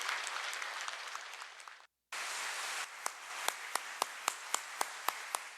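A congregation claps at a Wednesday church service, sustained applause breaking off briefly, then resuming before settling into a slow, evenly spaced run of single loud claps.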